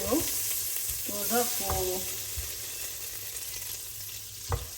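Butter melting in a hot pan for a velouté sauce, a steady bright sizzle throughout with a few clinks and taps of a utensil, close and fairly loud with no talking.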